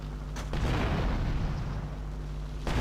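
An in-game explosion in GTA Vice City Stories, a loud low boom that swells and rumbles for a couple of seconds, with a second burst at the end.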